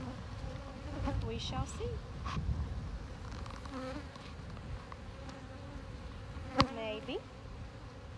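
Honey bees buzz around an open hive frame where they are packing pollen, a steady insect drone near and far with a person speaking briefly over it.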